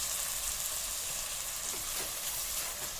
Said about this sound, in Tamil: இப்போ பாருங்கள், இந்த மாதிரி நல்லா ப்ரௌனாக வதக்கி விட்டுருங்க.